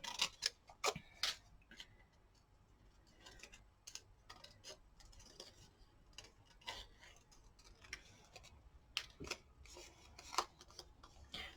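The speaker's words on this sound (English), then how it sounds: "Probably using the wrong scissors as well." Small scissors snip through stamped paper images for fussy cutting at an art journaling desk, giving sharp, irregular clicks and snips in short bursts with quiet pauses between, close and fairly faint.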